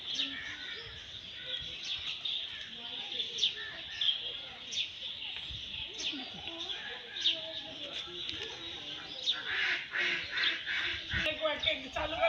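Ducks quack and geese honk repeatedly in a busy flock at a zoo in Barka, Oman, with chickens nearby, calls overlapping at close range with faint background chatter.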